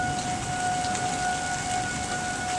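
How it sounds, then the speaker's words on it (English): A steady tornado siren wail drones in the distance beneath heavy, constant rainfall, with no voices present. "You hear the tornado siren."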